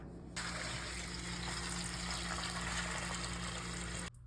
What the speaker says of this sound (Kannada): ಈಗ ಅವಲಕ್ಕಿಯನ್ನು ನೆನೆಸಲೆ